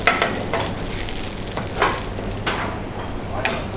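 Thin salmon slices frying in oil in a pan, a steady soft sizzle with light stirring and utensil scrapes recurring every second or so, close by with no talk.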